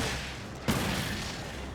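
A single gunshot in the video game Alan Wake, one sharp close report cutting through a hissy ambient background and decaying quickly.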